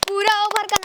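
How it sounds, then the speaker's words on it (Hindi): A handful of uneven claps from a small group at an informal gathering about cricketer Mukesh Kumar land over a sustained tonal voice or hum, close and fairly loud. "पहले तुम लोग ताली बजाओ।"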